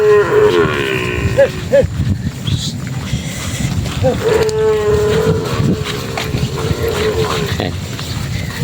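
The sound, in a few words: cattle mooing on a ranch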